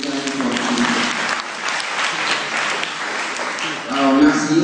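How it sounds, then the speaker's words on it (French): Audience applause for three candidates at a leadership competition semifinal, a steady dense clapping throughout with voices mixed in, swelling louder near the end. "Je vous demande d'applaudir, de presser des applaudissements à l'endroit des trois candidats."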